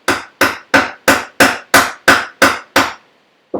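A chisel chops down into wood at a knife line while tusk tenons are being cut, nine sharp, evenly spaced blows ringing close and loud, then a pause before one more strike begins.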